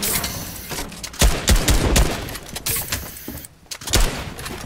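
Rapid gunfire in Fortnite, delivered in dense bursts of loud, sharp shots that cluster around the middle, with a short lull before a final flurry.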